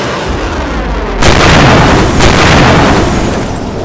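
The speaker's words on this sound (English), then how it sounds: "The pilot locks onto the tank as it travels down Farmington Avenue and fires a missile at it." A loud missile explosion as it strikes a tank travelling down a city avenue: a sudden heavy boom with a second burst about a second later, then a sustained rumbling roar that slowly fades, with no talk.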